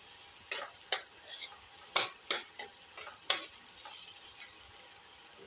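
Onions and shallots sauté in a pan with a soft, steady sizzle, broken by about eight sharp scrapes and clinks of a spoon stirring against the pan, close and fairly quiet, with no talk.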